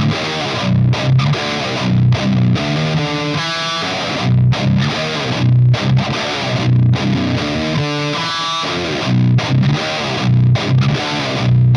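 Heavily distorted electric guitar played through a JCM power amp and a 5150 amp into Arachnid cabinet impulse responses, including a signature cab; chugging, mid-forward palm-muted riffs with short pauses and brief lead phrases, loud throughout.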